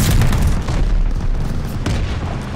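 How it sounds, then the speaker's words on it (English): A stun grenade detonates in the video game Call of Duty Vanguard, a loud, dense boom with rumbling low end and crackling bursts layered over ongoing gunfire, close and intense for a couple of seconds. "Man, the stun grenade."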